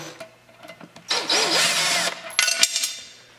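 Cheap Craftsman power drill working on a Joust arcade cabinet lock, starting with short clicks, then a loud whining spin for about a second, followed by a few more brief bursts that fade out.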